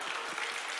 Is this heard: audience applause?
yes